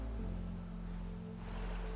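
A small waterfall in a slippery mountain stream gives a steady rushing roar of falling water, low and continuous, fairly faint, with no talking.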